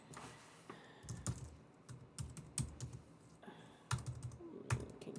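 Quiet typing on a computer keyboard during a purse wrap design tutorial, with irregular clusters of light key clicks and a few sharper taps, close and alone.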